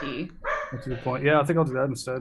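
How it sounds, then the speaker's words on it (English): A pet dog barks and yips in the background during a tabletop role-playing game session, brief sharp calls partly masked by a person talking close by. "Sorry about my dog."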